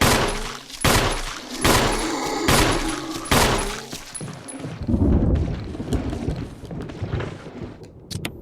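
Rapid gunfire from the Resident Evil video game on Switch: a loud burst of repeated shots at a steady rhythm for about four seconds, followed by heavy thuds and rumbling impacts.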